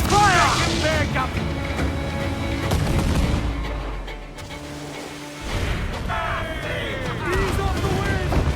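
Ship cannons boom in Assassin's Creed IV: Black Flag, with heavy blasts at the start and later a renewed volley amid crackling naval battle noise, while crew voices shout over the fighting.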